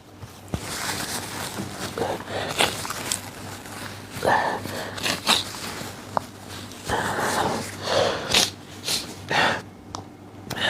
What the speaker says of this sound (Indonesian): Lalu dibatuk-batukan